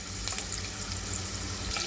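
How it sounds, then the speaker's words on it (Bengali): Nuts frying in a pan, a steady soft broadband crackle and hiss with a faint clink or two, heard alone at low level. "বাদামগুলোকে একটু ভেজে নিচ্ছি"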